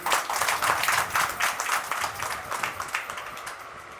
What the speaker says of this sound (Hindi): आप सब जोरदार तालियां दें।